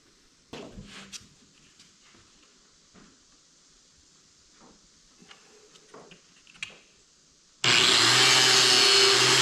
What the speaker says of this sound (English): And what I'm gonna use is I'm gonna use the biscuit joiner.